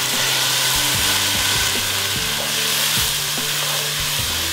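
Freshly chopped tomato dropped into a hot frying pan with cloves, a loud, dense, continuous sizzle with hissing spatter, close and steady throughout, while low tonal hums step up and down underneath.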